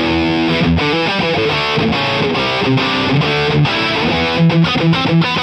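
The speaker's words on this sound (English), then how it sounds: "So the default patch sounds something like this through my guitar." Electric guitar runs through the default patch of the Neural DSP Archetype Tom Morello plugin, giving a crunchy plexi-style distorted tone as a steady stream of chugging riffs and chords fills the whole stretch, loud and close, with no talk.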